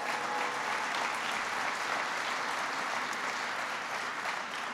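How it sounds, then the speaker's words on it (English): Audience applause for Tom Vilsack during a presidential visit to a wind turbine blade plant; continuous, even clapping from a large crowd, somewhat distant, with no pauses. "Give Tom Vilsack a big round of applause."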